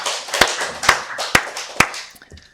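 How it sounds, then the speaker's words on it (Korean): Clapping during a Wednesday church worship service, four sharp, evenly spaced claps in a steady beat, each standing out clearly over a softer wash of background noise. "우리 박수로 하나님께 영광 돌리겠습니다"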